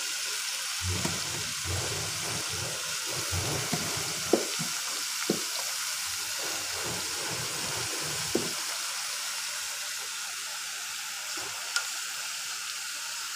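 Eggplant and finely chopped spinach go into a pan with fish head, and a steady moderate sizzle runs through with scattered stirring clatters and knocks near the start.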